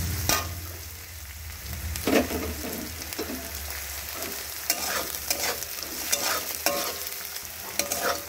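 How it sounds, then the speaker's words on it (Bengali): Garlic and chili frying in hot oil, stirred repeatedly for a Bengali dal palong, with a steady sizzle under sharp scraping strokes of the spatula against the pan. "রসুনের গন্ধটা যাতে চলে যায় এই জন্য একটুখানি ভালো করে কষিয়ে নেব তেলটার মধ্যে।"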